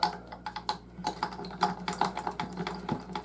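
Tuning peg on a Gibson Hummingbird acoustic guitar being turned to wind on a new string, a quick run of small ticking clicks and ratchety creaks, close-up and moderately loud.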